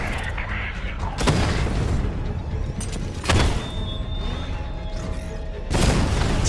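A Batmobile cannon fires at an armored Rattler enemy vehicle in a Batman video game: three heavy booming blasts land over a continuous rumbling engine and game background.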